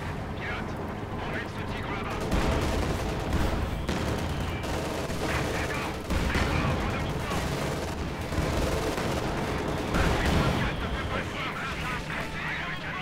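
Tank cannon fire from a short-barrelled Shorty tank at veterancy rank 3 in Company of Heroes 2, repeated heavy booms in a dense battlefield mix of explosions and gunfire, with talk over it.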